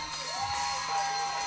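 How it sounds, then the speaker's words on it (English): Crowd at a Fight For It fight event cheering and whooping loudly as a fighter is introduced, a sustained roar with shrill shouts throughout. "Listen to that crowd, boy."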